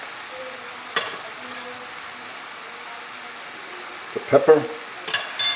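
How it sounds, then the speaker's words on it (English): Octopus and bowtie pasta with salt, pepper and dried basil sautéing in a pan over a moderate flame, a steady low sizzle with a few louder scrapes and stirring knocks near the end, a voice speaking briefly over it. "So it's going to saute for a few minutes"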